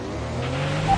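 Close engine roar of an F1 race car during an overtake in F1 2021, a steady mechanical drone rising in pitch at the end, brief and loud with no talk.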